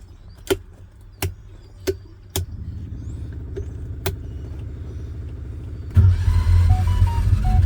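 A homemade vehicle with a modified 670 cc Predator engine, its compression-release camshaft altered, gives several sharp knocks before settling into a steady, close chugging idle, then a louder surge as it pulls away.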